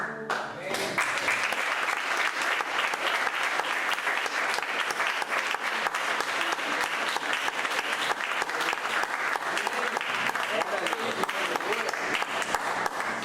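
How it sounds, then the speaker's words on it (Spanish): A church congregation on a retreat in Capdepera claps together in sustained, dense applause that holds steady and loud for over ten seconds, with a few voices faintly mixed in. "Un aplauso a nuestro Señor que nos tiene"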